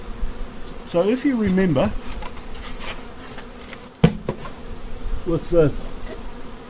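Honey bees hum steadily around an open Paradise beehive while a honey super is added, a continuous near buzz with someone talking over it and a sharp knock midway.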